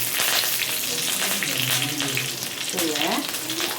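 Mustard seeds and curry leaves fry on low flame in a pan for chicken sukka, giving a steady close crackling sizzle with stirring, brief popping spurts, and faint talk in the background.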